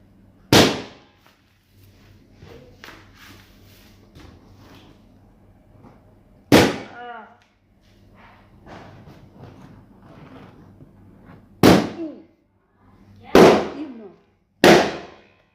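Firecrackers go off one at a time in five sharp, loud bangs spread across the stretch, with quiet gaps and faint background voices and movement between the blasts.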